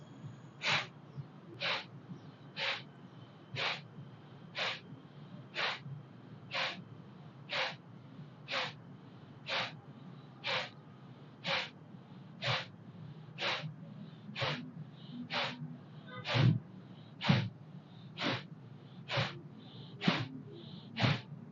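Kapalabhati pranayama practice: a steady series of about twenty sharp, forceful nasal exhalations, evenly spaced roughly once per second, close and clear with no talking, slightly stronger toward the end.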